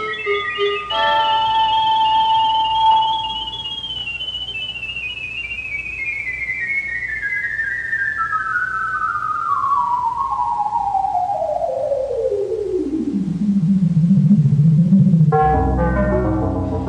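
Electronic tones: a sustained whistling pitch that glides slowly downward over many seconds, ending in a buzzy low warble and a brief bright burst.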